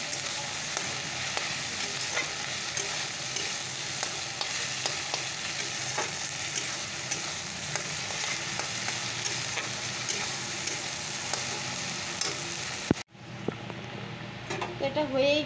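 A turmeric-laced spice masala is stirred and fried in a home-kitchen pan, giving a continuous close sizzle with repeated scraping strokes for about thirteen seconds. It then cuts off to quieter room sound.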